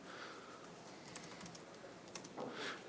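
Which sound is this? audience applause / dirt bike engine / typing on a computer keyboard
typing on a computer keyboard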